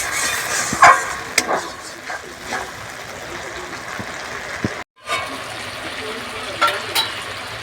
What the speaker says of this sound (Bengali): ভালোভাবে মশলাটা দিয়ে আমি কষিয়ে নেবো